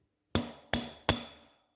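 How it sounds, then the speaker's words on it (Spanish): A hammer strikes a screwdriver tip three times in quick succession while working on a motorcycle handlebar. Each strike is a sharp metallic clink with a short ringing decay, close and clear, with no talk. "la solución es coger una punta de destornillador y un martillo o algo que se sirva para martillar"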